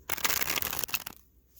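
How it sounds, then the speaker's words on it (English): Tarot cards are shuffled against a leg outdoors on a blanket, a dense riffling rustle for about a second that stops abruptly, close and alone. "Just gotta shuffle on my leg here."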